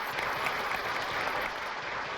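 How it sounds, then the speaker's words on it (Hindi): A sitcom studio audience gathered for a poetry competition breaks into steady, dense applause that fills the short moment. "चलिए एक बार आप मिलकर तालियां बजा दीजिए"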